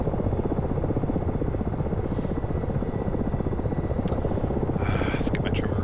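Ka-50 Black Shark helicopter rotor in a flight simulator, a steady dense chopping drone that stays loud and constant throughout, with a few brief higher clicks near the end.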